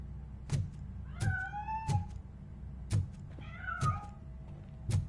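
A cat in the RoboCop: Rogue City video game meows several times in rising, drawn-out calls, clear and close, set against a low game ambience with a few thumping footfalls.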